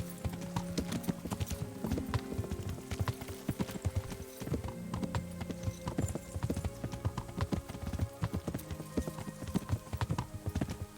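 A horse's hooves clip-clop in a steady walking rhythm in Kingdom Come: Deliverance, quiet and fairly close, with a faint whinny and no talk.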